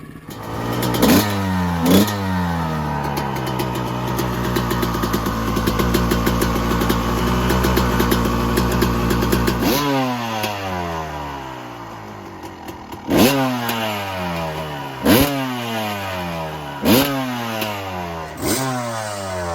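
A 2002 Kawasaki KX 250 two-stroke dirt bike engine holds a sustained high rev, then snaps through a series of sharp blips, each rising and falling quickly, loud and close with no talking.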